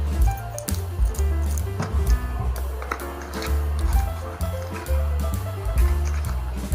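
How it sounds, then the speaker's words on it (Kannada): M-seal epoxy putty being kneaded and mixed by hand, giving continuous close, wet squishing and sticky squelches under background music, with no speech. "MCLನ ತೊಗೊಂಡಿದ್ದೀನಿ. ನೀಟಾಗಿ ಚೆನ್ನಾಗಿ ಮಿಕ್ಸ್ ಮಾಡ್ಕೊಳ್ಳೋಣ."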